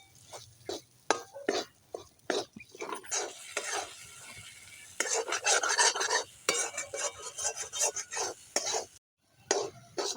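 A spoon scrapes and stirs a stuffing filling for ash gourd as it sautés with salt and turmeric, a rhythmic series of close metallic scrapes over a soft background sizzle.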